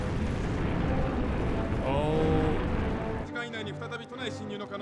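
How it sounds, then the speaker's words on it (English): Godzilla's atomic breath blast in Shin Godzilla, a loud roaring, rumbling eruption lasting several seconds that cuts off abruptly near the end into quieter movie sound. "You guys ever seen a atomic breath?"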